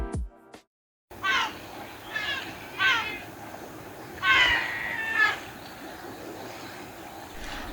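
Cats meow in the farming game Kohlrabi Starship, with several short meows spaced a second or so apart over soft background music, moderately loud, after a brief moment of talk.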